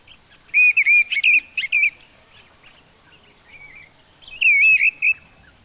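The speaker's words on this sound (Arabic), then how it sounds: "طائر صداح من عائلة الشحروريات، معروف بترنيمه الخاص الذي أعطاه اسم طائر السمان المغرد." A song thrush sings in clear, whistled phrases, two bright bursts of repeated notes separated by a quiet pause, heard alone and fairly close in a calm natural setting.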